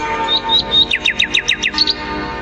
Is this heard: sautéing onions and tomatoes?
no